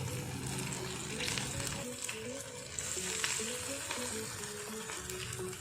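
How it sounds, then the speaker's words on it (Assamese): Potato pakoras deep-fry in refined oil in a pan, giving a dense, continuous bubbling sizzle with faint scraping underneath throughout. "মই একেলগে কেইবাটাও পকৰা দি দিলোঁ এয়া ফ্ৰাই হৈ আছে"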